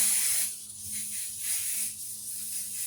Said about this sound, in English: So I'm gonna lay some more spray here